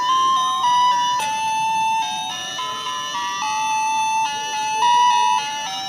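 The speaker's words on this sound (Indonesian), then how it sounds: "Wow, ini kita menemukan ada gerobak es krim." A toy ice cream cart plays a bright electronic jingle melody, loud and continuous for several seconds with stepped tones and no talking over it.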